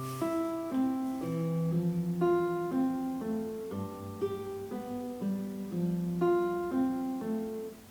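African seben-style fingerstyle melody on guitar, bright plucked notes in a steady, lilting rhythm over a repeating bass line, played close and alone with no talking.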